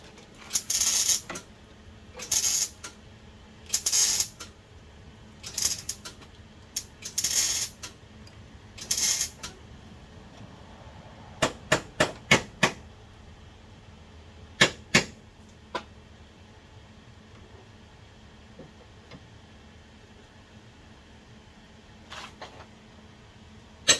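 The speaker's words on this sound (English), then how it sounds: "crescent wrench, proportioning valve, gotta go." A crescent wrench works loose the proportioning valve in the engine bay of a 1991 Honda CRX Si, giving sharp metallic clicks and ratcheting taps in uneven bursts, then sparse clinks with quiet pauses between.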